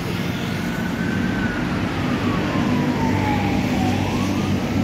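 An ambulance siren wails, rising and falling in the distance over loud, steady traffic or engine roar on HR Rasuna Said street in Jakarta.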